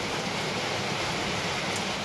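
Heavy rain pours down as a dense, steady broadband hiss that fills the whole moment, fairly loud and with no talking.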